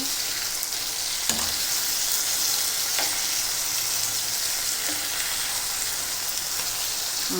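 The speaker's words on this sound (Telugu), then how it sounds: "ఇప్పుడు వేగాయి కదండి" Gulivindala sea fish fries in hot oil in a pan, giving a dense, steady sizzle with a few soft clicks and taps throughout, close and continuous.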